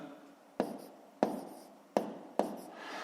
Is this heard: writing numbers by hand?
yes